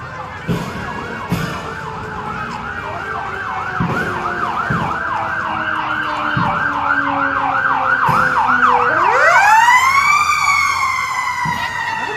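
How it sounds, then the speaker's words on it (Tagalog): A wailing fire truck siren sweeps up and down steadily and loud, then shifts abruptly into a rising howl near the end, with traffic rumble underneath. "May isang fire truck. Andyan pa."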